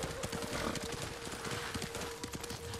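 A horse gallops in the video game Ghost of Tsushima: rapid, rhythmic hoofbeats keep up a steady clip-clop over a constant background tone and game ambience.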